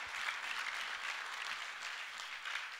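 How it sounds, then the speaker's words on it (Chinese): Steady applause from a company audience in Malaysia fills the whole stretch, dense and even with no voices over it. "来给公司一个掌声。"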